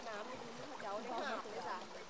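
Cool stream water flowing steadily beside a roadside in rural Laos, a constant rushing hiss running beneath someone talking throughout.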